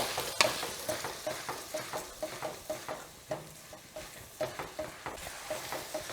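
Spaghetti is stirred through a sizzling lemon juice and oil sauce in a hot pan, with a steady, close rhythm of scraping strokes about twice a second over a constant frying hiss.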